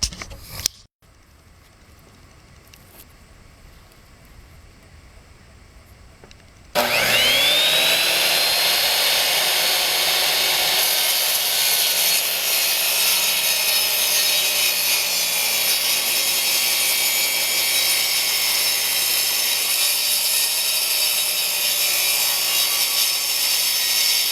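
A power saw cuts a mitered wood trim piece during house repairs, with faint handling first and then a loud, sustained whining cut that starts abruptly and keeps going to the end.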